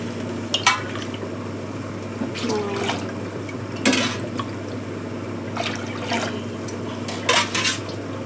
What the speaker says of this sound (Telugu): నేను ఇప్పటికైతే చల్లనీళ్ళు వేస్తున్నా.